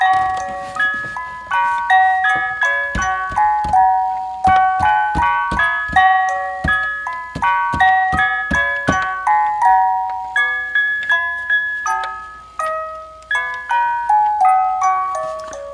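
A Fisher-Price toy music box record player plays Au Clair de la Lune as a bright plucked-comb melody, with a steady metallic clicking tick beneath the notes, close and alone.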